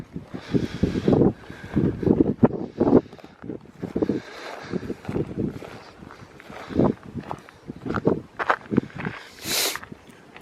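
Gusty wind blows outdoors on open ground during a butterfly search, buffeting the microphone in uneven rumbling bursts that rise and fall throughout, loud and close.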